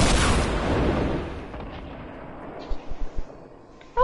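A rocket launcher explosion in the Call of Duty Blackout mode opens with a loud, deep boom that rolls off into a fading rumble, followed by a few faint thuds near the end.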